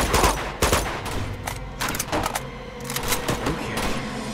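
In the video game Uncharted 2: Among Thieves, gunfire crackles in rapid bursts of sharp shots, close and loud, with brief pauses between volleys.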